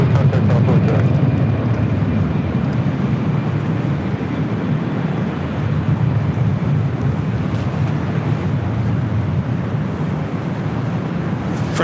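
A SkyWest-operated Delta Connection Embraer E175 jet arriving at LAX from Sacramento roars in a loud, steady, continuous rumble across the whole stretch, with no voices over it.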